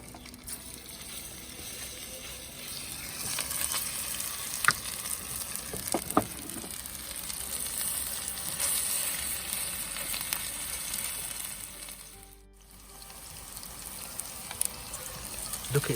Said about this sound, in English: we're going to start deep frying the chicken